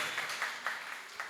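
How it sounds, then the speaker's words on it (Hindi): Audience clapping for a child at a Jain temple gathering, a steady patter of applause with a few sharper hand claps rising through it. "तालियां बजाओ बच्चे के लिए एक बार"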